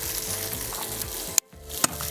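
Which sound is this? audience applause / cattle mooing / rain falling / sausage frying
sausage frying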